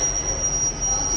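A Northern class 158 diesel multiple unit of four carriages pulls into a station. Its wheels squeal steadily and high against the rails over a continuous low rumble, close by and without a break.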